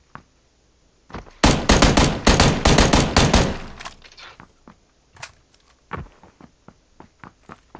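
Bursts of automatic gunfire from the battle royale game PUBG, rapid loud volleys for a few seconds, then scattered single shots and light footstep-like clicks trailing off.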